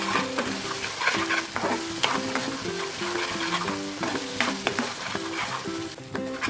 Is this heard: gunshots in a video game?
no